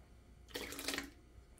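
Room-temperature tap water splashes into a liquid soap mixture, a short, steady pour lasting about half a second, fairly soft and close.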